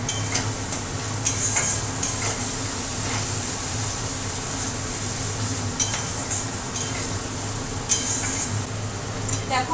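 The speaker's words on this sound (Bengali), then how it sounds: "পেঁয়াজটা ভালো করে ভেজে নিই লাল লাল করে।" Onions frying in a pan, with a steady sizzle under repeated stirring and occasional clinks of a utensil against the pan. The frying continues throughout.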